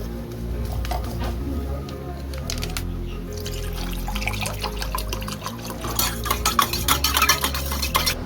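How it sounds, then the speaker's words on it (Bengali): A spoon stirs cold and hot water together in a glass, making repeated clinks and soft liquid swirls that grow busier toward the end, over a low background hum. "ঠান্ডা গরম জল মেশানো হয়ে গেছে।"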